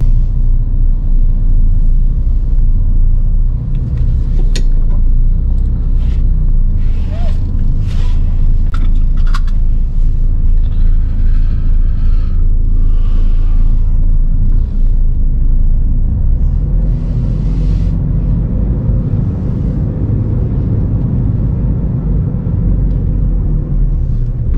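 A truck rumbles heavily as it pulls away, with a loud, continuous low engine drone close by and faint clicks and rattles above it.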